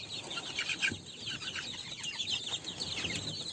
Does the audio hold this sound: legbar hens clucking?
yes